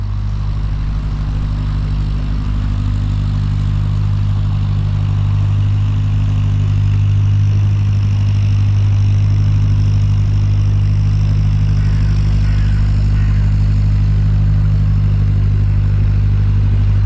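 A boat engine drones steadily nearby as the boat passes through an opened bridge at Gloucester docks, a loud continuous low hum that holds even throughout with no talking.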